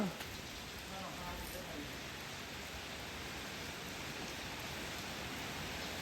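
Steady rain falls in a continuous broadband hiss that stays even and fairly loud from start to finish, with no voices standing out.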